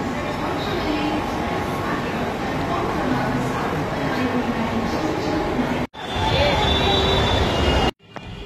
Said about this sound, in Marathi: घनसोलीवरून ट्रेन पकडतोय